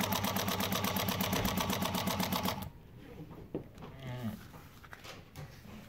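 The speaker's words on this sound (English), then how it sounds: "So I'm gonna start sewing." A Juki DNU-1541 industrial sewing machine stitches with a rapid, loud, even mechanical chatter for under three seconds, then stops, leaving quieter handling clatter and faint movement.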